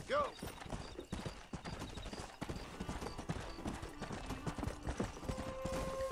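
Horse hooves clip-clop at a steady trot in the Western video game Red Dead Redemption, a rhythmic clatter mixed with game sounds and a brief whinny-like tone near the start.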